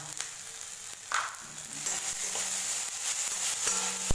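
Spices sizzling and being stirred in a hot pan for green mung dal curry, a steady close fry with soft scraping strokes of the spoon throughout.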